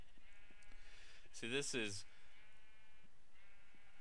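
Sheep in a Minecraft-style game bleat twice, two wavering calls in quick succession over quiet game ambience, with a speaker talking around them.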